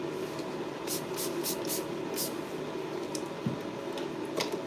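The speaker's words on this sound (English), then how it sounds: "we're gonna go ahead and spray her with some B7 leave-in conditioner" A pump bottle of B7 leave-in conditioner sprays onto a client's hair in a salon, several short airy spritzes in a quick rhythm over a steady background hum.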